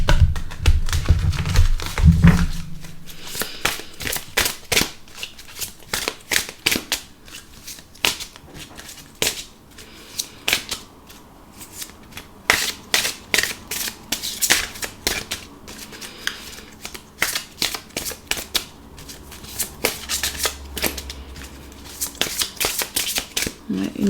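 Oracle or tarot cards are shuffled by hand in a steady run of crisp, rapid riffling taps and flicks, close and fairly loud, with brief pauses between bursts and a low rumble at the start.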